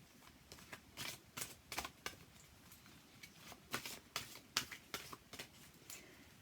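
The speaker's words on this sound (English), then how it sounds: "And I'm going to shuffle the blue backed cards." Repeated crisp riffles of a blue-backed deck being shuffled, a run of quick flutters and snaps, close up and soft.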